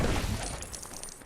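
Glass shattering set off by a mandrake's screech in the Lego Harry Potter video game: a bright, crackling burst at the start that thins into a scattered tinkle of falling shards.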